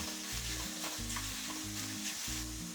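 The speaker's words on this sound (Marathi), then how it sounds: "थोडासा हिरव्या मिरचीचा ठेचा परतला गेला की लागली आपण त्याच्यात हा मुळा घालून घेणार आहोत" Green chili thecha sautéing in a pan with radish being added, a loud continuous sizzle with rhythmic stirring scrapes and a low steady hum underneath, close and without speech.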